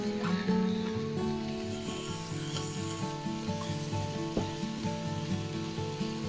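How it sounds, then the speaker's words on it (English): Vegetables including bok choy sizzling in a warm pan, a dense steady crackle close by with faint scraping and clinks, heard alone without talk. "I'm adding all of these vegetables in at the same time."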